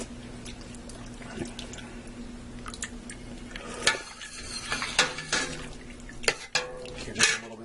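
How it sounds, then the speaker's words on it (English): A spoon breaks up a clump of chicken in a big pot of chicken rice soup full of water, giving soft scraping, clinking and wet squishing sounds in irregular bursts at low volume. "I have this big clump of chicken here I want to break up"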